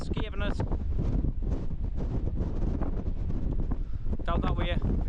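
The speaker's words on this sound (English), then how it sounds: "It's pretty windy, so you might be struggling to hear us." Strong, constant wind on a hilltop buffets the microphone with low rumbling gusts, while voices talk faintly underneath throughout.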